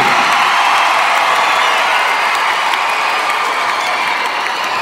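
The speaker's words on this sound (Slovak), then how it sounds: "Veľký potlesk pre všetkých spomínaných ľudí." Loud, dense applause from a large audience at a children's charity event, with scattered cheers and whoops running steadily throughout.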